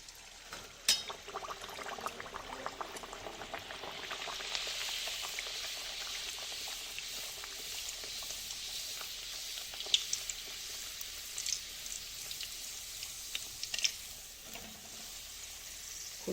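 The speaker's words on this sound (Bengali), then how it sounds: "আমার এখানে তেল গরম হয়ে গেছে, এবার আমি একটা একটা করে ভেজে নেব।" Pieces frying one by one in hot oil give off a steady, moderate sizzle with scattered small pops and crackles, with no talking over it.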